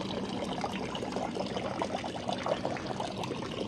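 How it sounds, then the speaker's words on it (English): Spring water flowing down from Bukit Timah, a continuous splashing, trickling stream heard close by, steady and fairly loud throughout. "It's nice spring water coming down from Bukit Timah."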